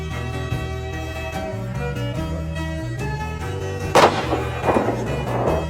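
A single sharp gunshot cracks out over a sustained orchestral music bed in a Western film scene, followed by a brief rumbling echo.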